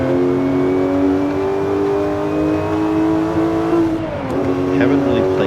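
A Porsche 997 GT3 engine in Forza Horizon 5 holds a loud, steady high-rev howl, then pitches down briefly and climbs again, close and constant.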